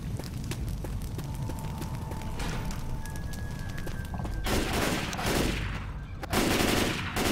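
Steady gunfire in Left 4 Dead 2 during a zombie-fighting finale, with continuous rapid shots over a busy game din, punctuated by a few louder booming bursts.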